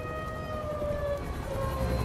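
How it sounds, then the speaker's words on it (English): Air raid sirens wail continuously in the video game Black Mesa, a steady, sustained rising-and-falling tone that stays loud throughout over a low rumbling background. "Fucking air raid sirens."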